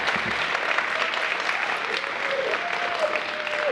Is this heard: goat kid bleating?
no